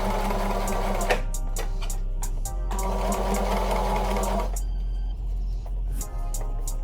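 Sewing machine stitching fabric for shorts, a steady close motor whir with rapid needle clatter that runs, pauses briefly, then resumes at a lower, sparser rhythm.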